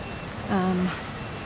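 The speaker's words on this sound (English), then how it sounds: "So, it is raining here in Porto." Steady rain falls on a quiet Sunday street in Porto, a constant wash of patter with a brief tonal hum rising over it midway.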